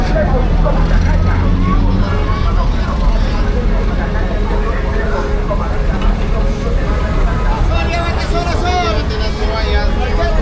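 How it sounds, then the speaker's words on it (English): Busy street traffic in Lima, Peru, with buses and cars rumbling and idling close by. Loud low engine drone continues throughout, mixed with crowd babble and someone talking over it. "I don't think I've seen so many buses in my life"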